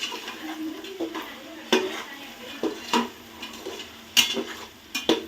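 Eggs frying with masala in a pan for egg biryani, heard mostly as sharp metal clinks and scrapes of a spoon against the pan over a soft, low sizzle, with no speech.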